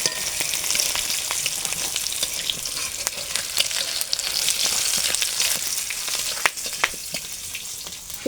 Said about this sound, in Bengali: প্রথমে মাছ ভাজা তেলের মধ্যে কাঁচা লঙ্কাগুলো দিয়ে দেবো, পাঁচফোড়ন, তেজপাতা একসঙ্গে